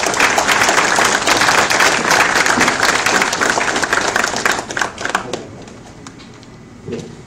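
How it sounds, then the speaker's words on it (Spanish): Audience applause for a keynote conference speaker, loud and dense for about five seconds before thinning into scattered claps and fading. "Pedimos, por favor, fuertes palmas para iniciar su exposición."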